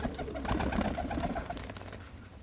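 Pigeons coo softly and repeatedly in a loft, a few birds overlapping in low rolling calls at a moderate distance, with faint rustling and no talking.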